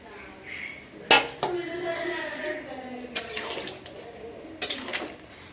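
Potatoes and papaya tipped into a pot of mutton in a home kitchen, with a few sharp metal clanks of pot and spoon and soft stirring while someone talks.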